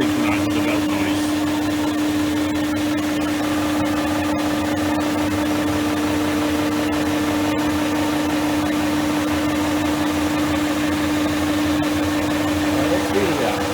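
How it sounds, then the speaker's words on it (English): Drive belt running on a machine at around 600 RPM, a steady continuous mechanical whir with a constant tone and rhythmic slapping, loud and close throughout with no pauses. "That's purely the belt, because obviously synchronised with the belt noise."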